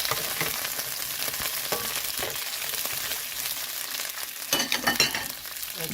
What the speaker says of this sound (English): Continue to fry our veggies.